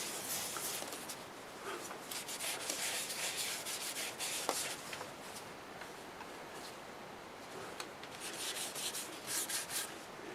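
A cloth or applicator rubs shellac-based sanding sealer onto a mesquite wood turning with a soft, continuous scrubbing and swishing sound, quiet and close, with occasional brighter strokes and no speech.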